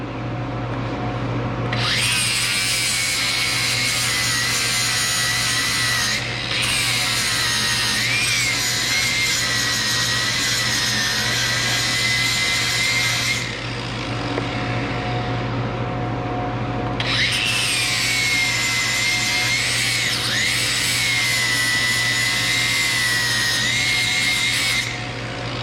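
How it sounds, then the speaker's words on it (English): Power sanding on a wooden holiday project to remove tacks: a loud, continuous abrasive whir that runs in long bursts with two brief pauses, close and steady with no voices. "Sand off them tacks a little bit."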